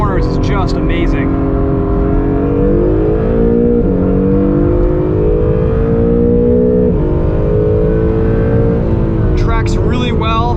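A 2020 Acura NSX engine pulls hard on a race track out of corners, with a loud sustained roar rising and falling in pitch as the car accelerates and shifts.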